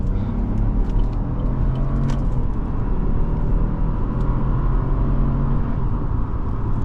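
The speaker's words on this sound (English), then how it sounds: "We're gonna do a proper 0 to 60 as we merge onto the highway" A 2022 Chevrolet Trailblazer with a 3-cylinder engine accelerates onto a highway, heard from inside the cabin as a continuous low engine rumble mixed with road noise. The level stays fairly even throughout.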